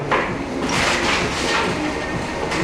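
A Metabo jointer planer knife slices through a small piece of rubber, giving a rough, scraping cut that lasts through the clip with a few sharper bursts, close and fairly loud.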